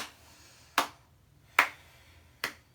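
Three sharp, separate hand claps during a Kundalini yoga exercise, spaced roughly evenly and ringing briefly in a quiet room, with no talking.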